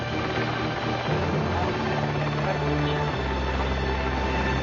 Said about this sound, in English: Helicopter out there.